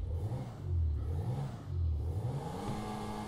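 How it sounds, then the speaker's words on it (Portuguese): Turbocharged 1.8 Volkswagen Voyage CL engine in GTA V revving up and down in two swells, a loud close rumbling drone that climbs in pitch toward the end. "Olha o ronco do motor, galera, ó."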